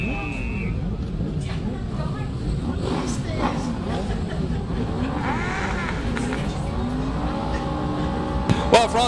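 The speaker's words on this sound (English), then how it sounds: "as you can hear the revs rising already" Racing motorcycles idle and rev on the grid at Killarney Raceway before a Power Series race start, a dense layered engine roar under a commentator's continuous talk, with revs rising toward the end.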